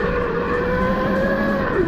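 A ready-to-run RC car with upgraded larger wheels drives along an outdoor rock trail, its electric motor giving a steady whining hum with rising and falling pitch, close and continuous throughout.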